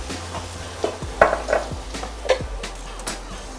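Berries cooking in a pan are stirred with a utensil, giving soft scraping strokes and light clinks over a steady low sizzle, close and moderately loud, with no talking.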